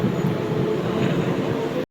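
Steady low rumble and rattle from inside a moving Mumbai local train heading to Charni Road station, constant and fairly loud, cutting off abruptly at the end.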